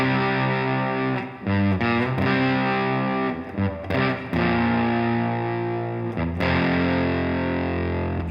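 A distorted electric guitar plays a riff, loud chunky chords with brief rhythmic stops and restarts across eight seconds, no talking.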